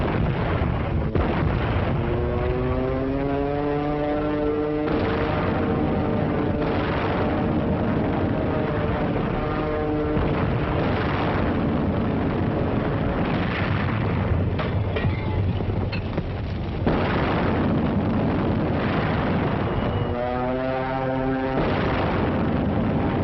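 Old wartime battle footage in the jungle: continuous rumbling gunfire and booming explosions, dense and loud throughout, with musical tones swelling over the din and a muffled, narrow, old-film sound.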